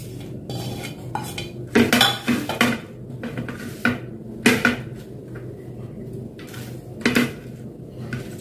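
Shrimp paste and raw onions being mixed in a bowl for Bangladeshi-style chingri bata, with utensil scrapes and clinks against the dish in irregular bursts, close and fairly loud, with no talking.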